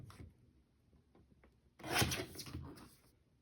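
Paper for a scrapbook layout is trimmed with a paper trimmer, a short scraping slide of the blade after a few soft taps, close and fairly quiet with no talk.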